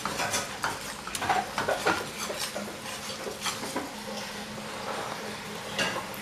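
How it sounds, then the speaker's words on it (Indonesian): Cheese being whisked into a cream sauce for a chicken bolognese lasagna, heard as quick irregular clinks and scrapes of a utensil against a bowl, close and fairly soft. "kita tambahin keju nah, kita kocok lah"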